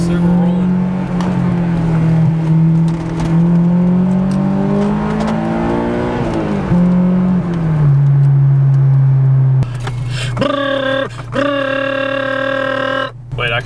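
Honda car driving on the road while new brakes are bedded in, engine note rising and falling through gear changes with a steady hum, and people talking inside over it.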